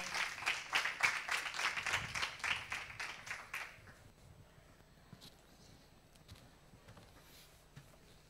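A small audience claps to welcome Miguel at an event interviewing people with disabilities. The clapping is fairly faint and scattered, runs for about four seconds, then fades into quiet room noise.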